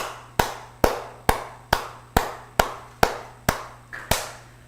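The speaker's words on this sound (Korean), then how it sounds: "자, 박수를 10번만 한번 쳐보도록 하겠습니다." A lecture audience claps in unison about ten times, each sharp, crisp clap landing in a steady, evenly spaced rhythm with brief decaying room echo between strikes and a faint low hum underneath.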